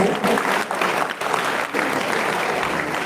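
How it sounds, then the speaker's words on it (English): Round of applause from a classroom audience after an introduction, a brief dense wave of clapping that holds steady throughout, with a few dips in intensity. "Please let's give him a round of applause."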